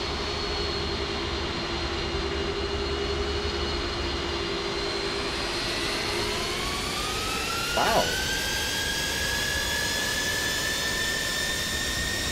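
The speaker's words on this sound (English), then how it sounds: "You hear those Trent 700 engines whining?" Trent 700 turbofans on a multiplayer airliner in Microsoft Flight Simulator 2024 produce a steady high whine with rising tones as they spool up, continuous and fairly loud throughout, with a brief exclamation from a voice midway.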